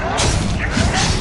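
Bombarda explosion spell going off in Hogwarts Legacy, a loud, close thudding blast with a crashing, rumbling tail.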